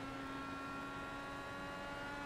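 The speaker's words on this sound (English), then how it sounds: "his engine sounds like it's a little bit down on power" Steady, droning IndyCar engine note in a racing video game at the Iowa oval, a constant high whine held at even pitch without breaks, with no speech.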